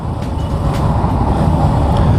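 A Honda Hornet 2.0 BS6 motorcycle engine runs steadily at about 4000 rpm, a loud, continuous low drone with a gentle rise in level toward the end.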